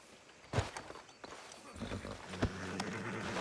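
Horse hooves clip-clop on the ground in Red Dead Redemption 2, several uneven close steps slowing to a stop outside a town sheriff's office, with faint game voices in the background.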